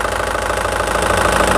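A Tata Xenon 3.0 turbo diesel heavy-duty pickup engine idles close by, a loud, steady diesel clatter with an even knocking rhythm running throughout.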